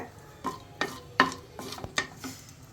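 Chana dal is dry roasted in a pan and stirred with a utensil, giving a series of distinct scraping, rattling strokes at a steady rhythm, close and fairly quiet, with no talking.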